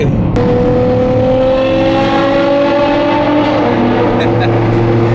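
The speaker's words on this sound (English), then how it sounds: "Oh my God, it has an exhaust on it too." A full wide-body JDM car at a car meet, its aftermarket exhaust droning loud and steady with engine tones rising, close by, while people talk over it.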